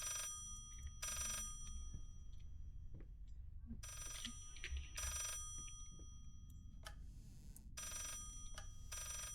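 Telephone ringing in the video game Layers of Fear, an old-style bell ringing in repeated bursts with short pauses between, moderately loud over a low ambient rumble.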